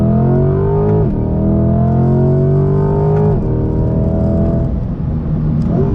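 A Chevy C8 Corvette Z51 engine pulls hard toward its 6,500 RPM redline, loud and close, its rising whine climbing steadily through repeated gear changes with no one talking.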